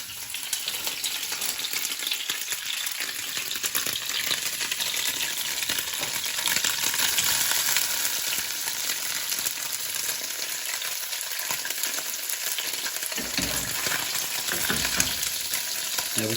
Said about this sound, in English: I've got some tofu there and I've cut it into dices. So I'm going to take half of it and I'm going to start frying them.